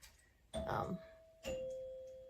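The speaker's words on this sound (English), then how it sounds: "Doorbell." A two-tone doorbell chime rings once, a higher ding followed by a lower dong, each tone lingering and fading in a quiet room.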